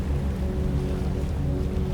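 Ferry engines give off a low, steady droning hum with a faint wash of water, even and unhurried throughout, with no voices.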